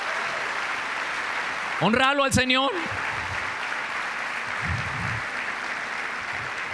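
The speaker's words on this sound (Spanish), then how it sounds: "Dale un fuerte aplauso al Señor." A church congregation claps steadily as background texture while a preacher speaks loudly over it for a moment. The applause is broad and moderate in level, partly masked by the voice.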